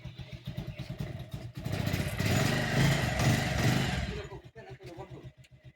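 A motorcycle being brought to a home for washing runs with a steady, close engine drone that swells in the middle and falls back to a rougher idle, with clattering beneath.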